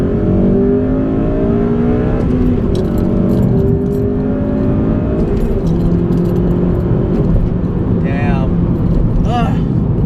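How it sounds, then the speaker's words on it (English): A 2006 Honda Civic Si (FG2) accelerates hard through a second-gear pull, its engine note rising steadily from inside the cabin, with a loud continuous drone and brief higher-pitched whines near the end. "have to do a second gear pull"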